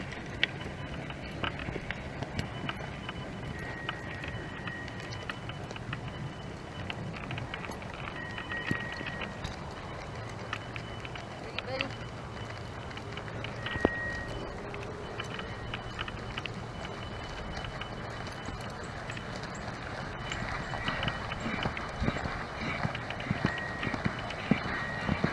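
A ridden horse canters in an arena, a continuous run of dull hoofbeats on soft ground with a rolling rhythm, steady and moderately near throughout, with faint background noise.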